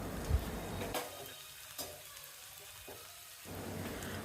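Onions and masala sautéing in a pan for a village-style channa and eggplant side dish, a soft frying sizzle that dips quieter midway, with occasional stirring clinks.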